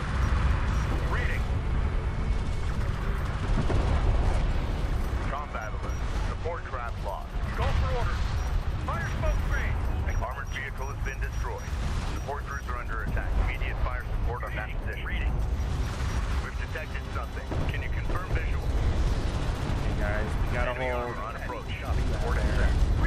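Railgun and weapons fire in the real-time strategy game Homeworld: Deserts of Kharak crackle and thud continuously through a dense desert battle, with bursts of shots and impacts layered over radio-style unit voices calling out.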